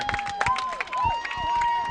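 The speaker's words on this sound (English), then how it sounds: "the crowd is rocking" A high school football crowd roars after an interception in a Fremont Eagles vs. Fairfield Falcons game, with steady cheering and scattered whistles and shouts filling the air for the whole moment.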